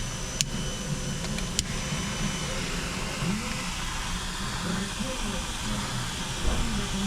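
Welding on a Cadillac fog lamp repair gives a steady, moderately loud hissing sizzle that runs throughout, with a few sharp crackles and a voice talking faintly underneath.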